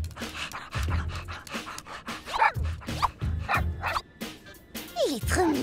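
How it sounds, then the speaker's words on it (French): Small pet dog in an animated French cartoon, yipping and barking in short bursts mixed with rapid panting and a brief whimper, close up, with a voice heard intermittently. "Il est trop mignon, son petit toutou."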